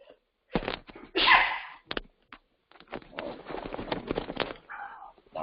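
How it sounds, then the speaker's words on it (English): A single sharp human sneeze indoors, sudden and close, set among brief stretches of talk before and after. "A little sneeze there."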